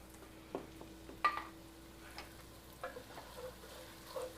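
Ginger and garlic fry over medium-low heat, giving a faint, gentle sizzle broken by sparse, quiet crackles and pops.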